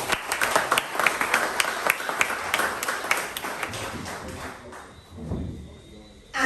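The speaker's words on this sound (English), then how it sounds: "Let's give Honorable Redhead a round of applause" An audience at a community youth-issues forum claps for Honorable Minister Redhead: scattered, moderately loud claps through the first few seconds that thin out and fade, with a voice speaking near the end.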